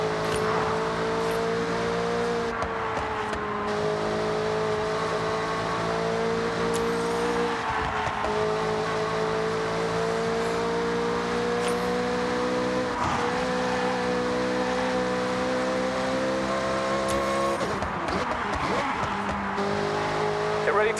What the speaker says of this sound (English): To blast those engines.